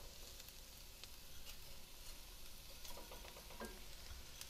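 Bulgur and rice are mixed into ground beef in a pan, a faint, steady sizzle with soft stirring scrapes and light clicks toward the end.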